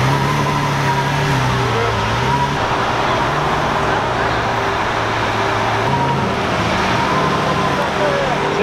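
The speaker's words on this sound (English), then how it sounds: "And just like that, the Ferrari is leaving as well." A Ferrari pulls away from a valet stand in steady traffic, its engine note rising and falling under continuous road noise. A person speaks over the scene.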